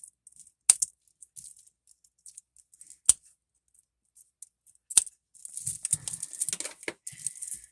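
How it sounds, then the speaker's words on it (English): Several sharp metallic snips spaced apart, then a busier stretch of rustling and cutting near the end; close and fairly quiet, no voices. "Was it Da Vinci that invented the scissors, or they claim he did"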